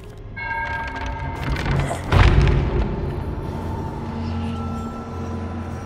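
A ship's cannon in the Sea of Thieves video game fires once with a deep boom in the middle of the moment, over a bed of creaking and rumbling background sounds.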